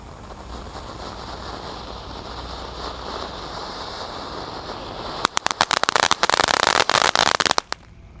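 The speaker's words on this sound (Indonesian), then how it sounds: "di sini ada air mancur kerucut Conic Fountain ukuran 3 yang warna merah guys. Kita nyalakan." A red size-3 conic fountain firework burns with a rushing hiss, then bursts into a rapid, loud run of sharp crackling pops before cutting off abruptly.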